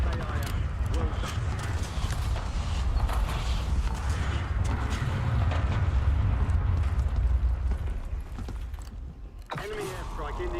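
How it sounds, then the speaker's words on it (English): Enemy precision airstrike in Warzone: a dense, sustained rumble of explosions builds and swells for several seconds and then drops away near the end. "Enemy precision airstrike."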